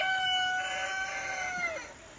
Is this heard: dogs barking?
no